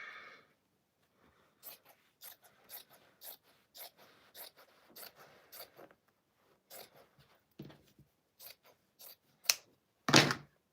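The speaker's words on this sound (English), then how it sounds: "I take good old-fashioned pair of scissors. I pull the pin out and I just go for it." Old-fashioned scissors cutting through quilt backing fabric, a series of crisp separate snips in an irregular rhythm, close and alone, ending with a louder handling thump.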